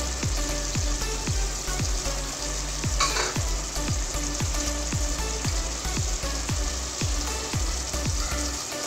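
Green chillies, coriander and mint fry in a spiced beef tahari masala, a steady close sizzle with regular scraping strokes of a spoon stirring the pan, no talk.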